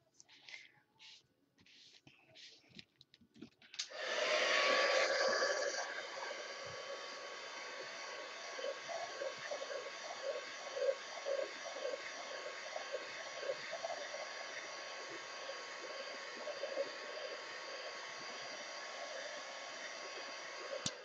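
A heat tool dries layers of a mixed media art journal page. Its loud, steady blowing roar starts after a few quiet seconds and continues without a break, with faint talking at the start.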